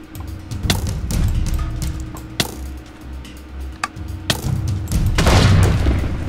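Gunshots from a first-person shooter in the Resonant Rise Minecraft modpack: several sharp, loud bangs spaced irregularly over a steady low rumble of game ambience, with a heavier burst of blasts near the end.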